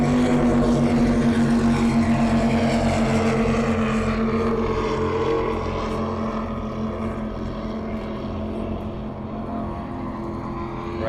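Racing powerboats at the Lake Hopatcong Grand Prix roar past up close, a loud, steady engine drone with a clear pitch that gradually shifts and eases as the boats move away.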